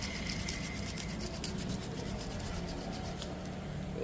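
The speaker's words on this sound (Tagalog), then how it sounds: "liliyahin lang natin ganun yan. Para matanggal yung ano." Steady rasping strokes of a file shaping a homemade slingshot bullet, close and continuous with a fast repetitive scraping rhythm.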